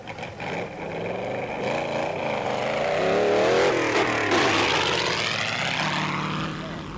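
A Super Pave rally car runs through an off-road desert race at the Sun City 400 in South Africa, its engine a loud, steady roar that swells and fades as it passes close by.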